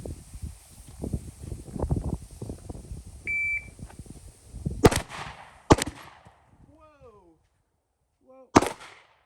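Several .38 handgun shots crack sharply at a shooting range, spaced out over several seconds, with a brief beep and faint voices and movement between them.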